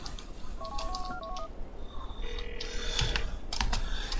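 Phone dialing in Grand Theft Auto IV, heard as a quick run of in-game keypad tones and beeps followed by a faint ringing tone, quiet against light background game sound.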